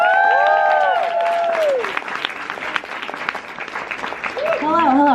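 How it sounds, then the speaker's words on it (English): Conference audience at VidCon Europe applauds a speaker being introduced, a dense clatter of clapping with cheering voices rising over it at the start and again near the end. "Big round of applause."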